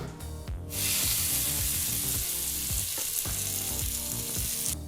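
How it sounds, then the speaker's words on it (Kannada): Hot oil tempering with curry leaves is poured into chutney for idli, a loud burst of sizzling and crackling that flares quickly and continues steadily. "ಈ ಒಂದು ಒಗ್ಗರಣೆನ ಚಟ್ನಿಗೆ ಹಾಕ್ಕೊಳ್ಳೋಣ"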